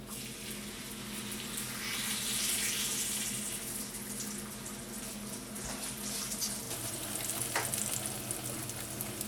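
Garlic and coriander naan laid face down in hot oil sizzles and crackles steadily, a bright continuous frying hiss at close range with small pops and a brief scrape near the end.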